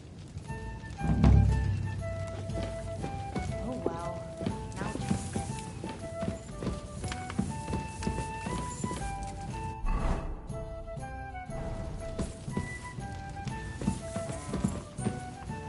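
Rhythmic hoof clip-clop of a horse in Kingdom Come: Deliverance 2, over a busy game soundscape with music and voices talking, a loud thump near the start.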